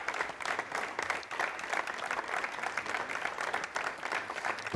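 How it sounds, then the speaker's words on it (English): Applause in a Soyuz launch mission control room after a satellite launch, dense clapping from a group heard at moderate-low level, continuous and even for the whole stretch. "we hear the applause"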